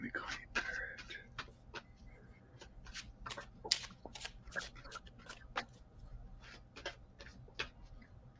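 Playing cards are shuffled close by in short crisp riffles and snaps, scattered across several seconds over a quiet room hum, faint and intermittent.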